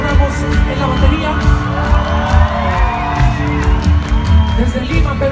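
Big concert crowd in Monterrey cheering, whooping and clapping at a rock show, a loud continuous roar with shouts rising over it and a voice calling out above the noise.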